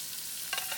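Onions and garlic sautéing in a pan give a steady, close sizzle with a few brief stirring scrapes near the end, no voices.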